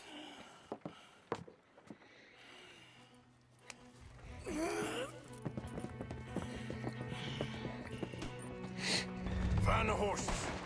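Horse hooves clip-clop in Red Dead Redemption 2, a steady galloping beat under game music and ambient noise, with a few snorts and people talking over it.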